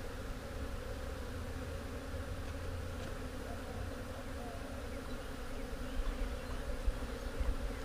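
A colony of honeybees hidden behind a brick wall during a bee removal hums in a dense, continuous buzz, steady and close throughout, with a few louder individual buzzes near the end and no voices.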